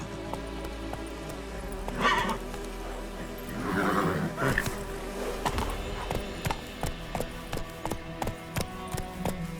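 Roach the horse's hooves clip-clop in a steady, even gallop rhythm, with a brief roaring neigh-like burst early on, all in The Witcher 3 video game over a continuous background hum.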